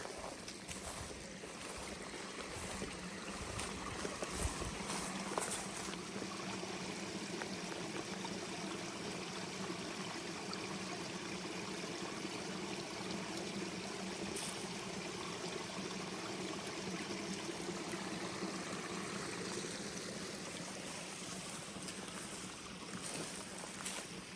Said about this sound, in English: I'll just show you this little creek.